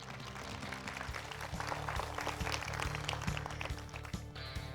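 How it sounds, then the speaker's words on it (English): Sustained applause from a school crowd fills the space, dense and continuous clapping at moderate volume. "y'all gave a round of applause to everybody"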